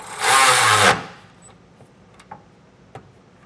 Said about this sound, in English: I'll tighten this down with a 13mm socket.